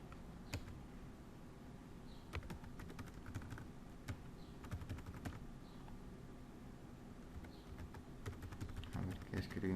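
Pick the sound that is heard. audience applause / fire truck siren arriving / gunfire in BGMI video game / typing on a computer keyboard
typing on a computer keyboard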